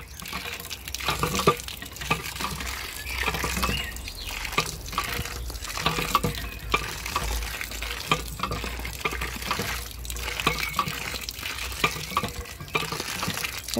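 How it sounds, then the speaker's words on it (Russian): Water splashes and gurgles from a hand-pumped spring in a park, coming in repeated surges with a steady low hum beneath, fairly faint and with no one talking. "наверное, сначала качаем эту воду."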